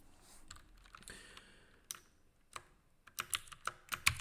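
Scattered keystrokes on a computer keyboard, sparse taps early that build into a quicker run of sharp, close clicks toward the end, with no talking.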